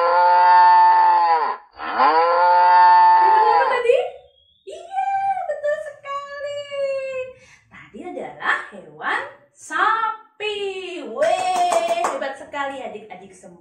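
A voice imitates a cow mooing in a children's Sunday school animal guessing game, long drawn-out moos followed by someone speaking to the children.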